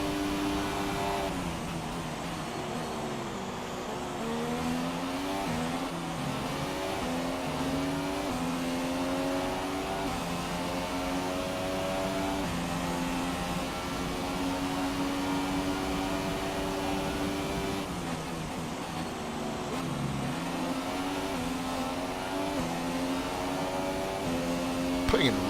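Formula 1 racing car engines in the F1 2017 game at Brazil, a continuous high-pitched whine that rises and falls through gear changes at steady loudness, with a voice talking over it throughout.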